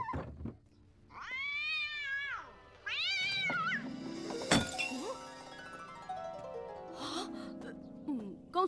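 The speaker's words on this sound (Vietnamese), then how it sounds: "Không phải tại tớ, là mèo." Cartoon cat meows loudly twice, then a sharp crash of a vase breaking rings out, followed by further animated sounds and short vocal noises in a children's animated series.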